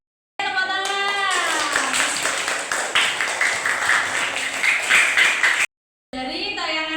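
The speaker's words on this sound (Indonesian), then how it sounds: "Tepuk tangan." A classroom of students claps their hands together for several seconds during a teaching-practice lesson, with voices heard briefly before and after the burst of clapping.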